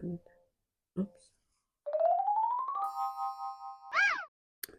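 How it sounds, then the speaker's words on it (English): A bedtime reminder bell chimes in a quiet room, a short rising electronic tone followed by a sustained ringing note and a final bright ding, with a few soft knocks before it. "That is my bell to remind me to stop and get into bed"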